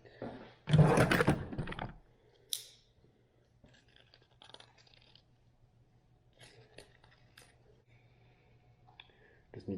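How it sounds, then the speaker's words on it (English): A knife cuts through material for a custom compound bow accessory in a workshop, giving a loud scraping, crunching burst near the start, followed by a few faint clicks and handling noises over a low steady hum. "Take a knife, cut this up."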